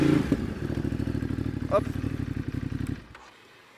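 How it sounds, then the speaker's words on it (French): Motorcycle picking up speed ahead of a rear-brake U-turn, a close, pulsing engine note that rises then cuts away near the end, with a brief spoken interjection over it. "On reste en maîtrise de sa moto. Donc je prends un peu de vitesse."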